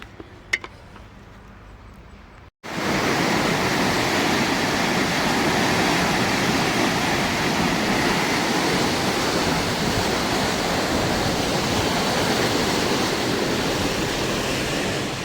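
Water spills past a check dam into a small canal in a farming village near Erode. After a quiet opening of about two and a half seconds, a sudden loud, continuous roar of rushing water fills the rest, close and unbroken.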